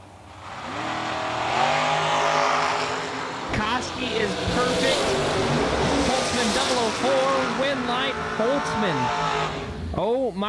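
Dragsters in a double breakout drag race roar loudly down the strip, with engine noise rising and wavering continuously while an announcer talks excitedly over the racing.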